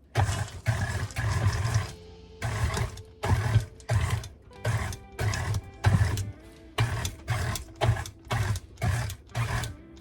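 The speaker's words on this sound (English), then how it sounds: "Let's give this one more stir, being careful not to overmix this." Oatmeal cookie dough is stirred in a bowl in loud, rhythmic strokes, each burst about half a second long with short gaps between, close up and without talk.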